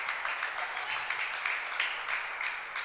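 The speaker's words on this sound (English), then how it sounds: "Members of the Waynesburg University women's basketball team bench clapping for her." Players on the Waynesburg University women's basketball bench clap for a teammate at the free-throw line during a college game, a soft, steady patter of hands under the hollow hum of the gym crowd.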